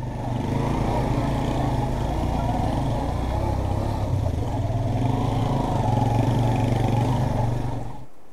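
A motorcycle rides along a valley road in Gilgit-Baltistan, its engine a loud, steady close-up drone that holds for several seconds before cutting off abruptly at the end.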